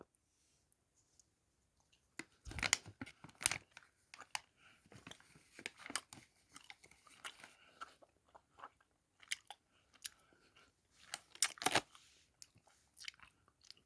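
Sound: chewing a Pikachu-shaped chewy snack

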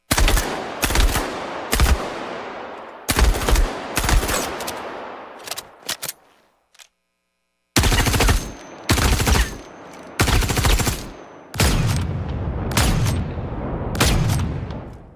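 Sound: weapon gunfire sounds from video game Star Citizen

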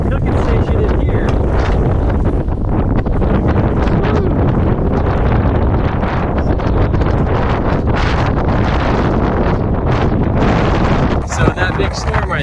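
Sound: strong wind on fishing pier

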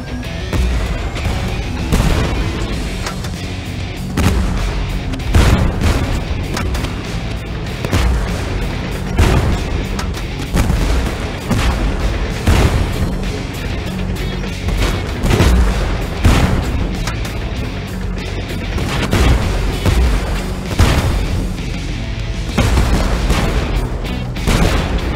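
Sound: artillery bombardment in the video game Tank Force

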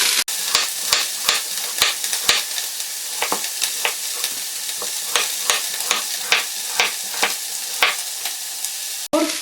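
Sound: leek and onion frying in pan

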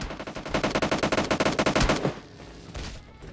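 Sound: gunfire in the video game PUBG Lite

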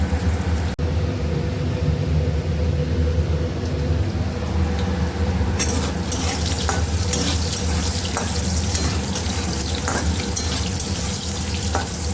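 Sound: fish frying in a pan

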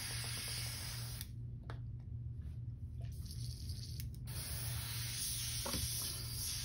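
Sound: airbrush spraying while being cleaned out

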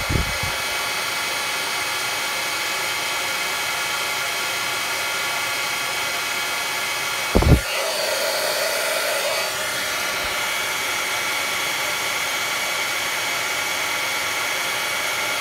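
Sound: heat tool blowing while melting stamping powder on card

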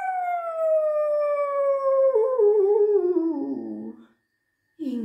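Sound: werewolf howling like a wolf

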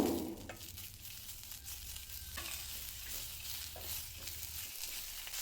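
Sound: tomatoes frying in a kadai on low flame

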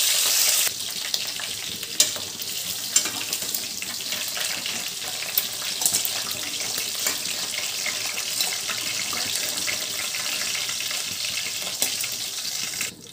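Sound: crabs frying in a pan

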